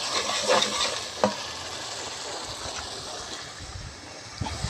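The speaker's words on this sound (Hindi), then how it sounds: "इसी हिसाब से 5 मिनट तक भून लेंगे ताकि लोबिया अच्छी तरीके से गल जाए।" Black-eyed beans (lobia) fry in a pan while being stirred, giving a dense, continuous sizzle with scraping stir strokes and a few small clacks, close and loud with no voices.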